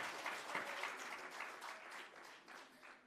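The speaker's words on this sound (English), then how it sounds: "A good round of applause" Applause for a panel of speakers at a local government week event, a quiet, steady wash of many hands clapping, heard from some distance with no talk over it.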